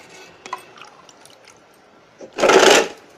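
Water is poured from a small container onto potting soil in a plant pot, a short loud splashing gush after a few soft drips and knocks.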